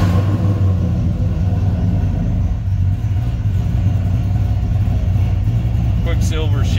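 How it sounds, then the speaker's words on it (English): A 1984 Chevy Monte Carlo SS with an LS V8 swap rumbles steadily at idle, a deep continuous low-pitched drone close by, with a brief voice breaking in near the end. "Let me fire it up, let you hear it run."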